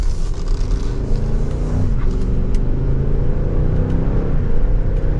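A 2024 Range Rover P530 V8 luxury SUV driving, a steady low engine drone with road and tyre rumble and a smooth downshift, heard from inside the cabin at moderate volume.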